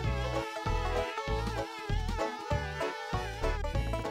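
Bees in the video game Conker's Bad Fur Day make a pulsing, tonal buzz that swells and cuts out in rhythmic bursts, loud and close, with no talk over it.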